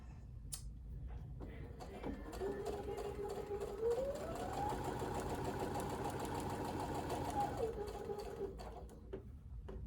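A home sewing machine stitches fabric during a quilting sew-along, its steady motor whir rising in speed midway and then settling back, close and continuous with no talk over it.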